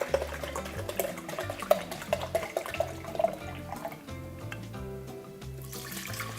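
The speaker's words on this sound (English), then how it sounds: "So we're going to put 2 cups of vinegar into our pot" Two cups of vinegar are poured into a pot for pickling, giving a steady liquid splash and trickle over low rhythmic music, with brief clinks early on.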